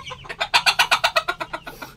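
A Cornish bantam crossed with a modern game bantam hen clucks up close, giving a rapid, evenly spaced run of about a dozen loud clucks.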